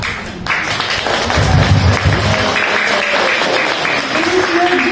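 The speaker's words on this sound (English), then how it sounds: "join us, George and I, to give a big applause for these 3 persons." Guests at a golden wedding anniversary celebration clapping together in a room, a loud, steady burst of mixed applause with some thuds and background voices mingled in.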